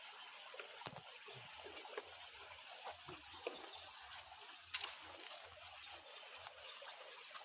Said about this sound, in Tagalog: Sapa-sapa ni siya